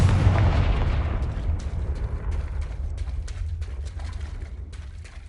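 A Confringo explosive spell goes off in Hogwarts Legacy, a heavy low blast that booms at first and then rumbles and crackles away over several seconds.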